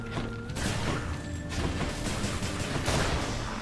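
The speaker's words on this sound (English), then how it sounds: "It's just standing there throwing out bombs like it's nothing." A burst of rapid explosions from bombs thrown by an enemy in the game Hades, a dense continuous crackling barrage with a brief lull mid-way before it resumes, loud and close.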